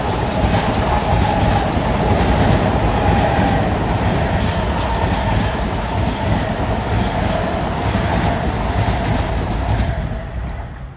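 An LIRR commuter train from Ronkonkoma to Penn Station approaches fast through Queens Village, a steady close rumble of wheels and cars with faint squeal and clatter that eases off near the end.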